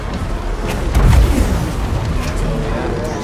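Missiles strike a base in a real-time strategy video game, a short run of heavy booming impacts with one louder blast about a second in, thick low rumble throughout.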